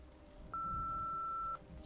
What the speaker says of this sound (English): please leave a message after the beep